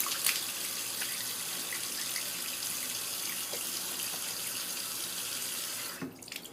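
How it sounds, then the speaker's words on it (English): Tap water runs steadily from a faucet as someone rinses off after shaving with a slant razor, a loud continuous hiss that cuts off near the end with a few small splashes. "Now I'm going to rinse off"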